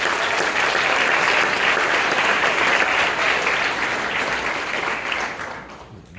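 A school spring concert audience claps loudly and steadily for its visual and performing arts teammates, a dense wash of applause that tapers off over the last second or two.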